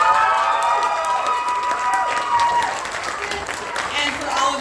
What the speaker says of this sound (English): Let's give a huge round of applause for Rose Walters.